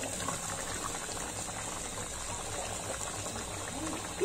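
Mutton stew bubbling at a boil in a pot, a steady low simmering gurgle throughout with a brief louder clink near the end.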